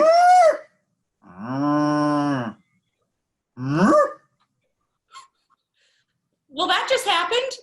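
A person imitates a cow with a few drawn-out mooing calls separated by pauses, one long low moo in the middle.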